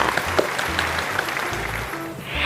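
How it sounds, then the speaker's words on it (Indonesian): A primary school class clapping for a classmate in a teaching session, a burst of many small hands applauding at once, fairly close and lively, fading slightly toward the end over a low background hum. "Mari kita berikan tepuk tangan untuk Melda"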